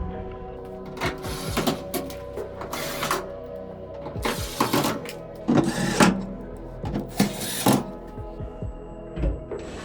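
A power screwdriver drives screws back into the front panel of a Samsung dryer, giving short whirring bursts with clicks and mechanical rattles in between, close and fairly loud, with no one speaking.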